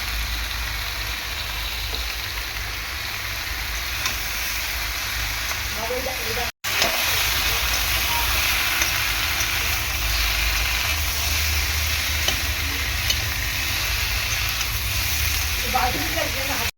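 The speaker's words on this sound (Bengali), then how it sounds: "আমি আর খুব বেশিক্ষণ কষাবো না, একটুখানি কষিয়ে জল দিয়ে দেবো।" Leafy greens stems with turmeric sauté in a pan for a Bengali fish curry, giving a steady close sizzle and hiss that runs almost unbroken, with one short cut partway through.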